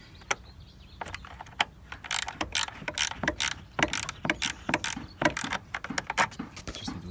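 Wrench loosening a 10mm car battery terminal bolt before airbag work on a steering wheel: close, irregular ratcheting clicks and metallic taps, scattered at first, then denser bursts of crisp clicking, no voices.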